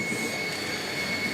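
A steady, loud whooshing roar of an air blower running continuously on an Arduino-controlled bio-fertilizer machine, with a thin high whine on top and no pauses.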